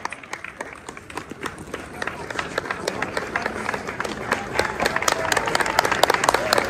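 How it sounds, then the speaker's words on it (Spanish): Audience applause rings out for four dance groups leaving the stage at the Tequisquiapan bull fair, dense clapping that swells and grows louder toward the end, with crowd noise underneath. "despedirlos con un fuerte, fuerte aplauso a estas cuatro agrupaciones"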